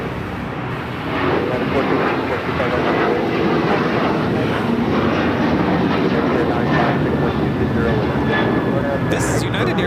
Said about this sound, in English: This is United Airlines 2377 taking off to Houston Intercontinental on the 737 900ER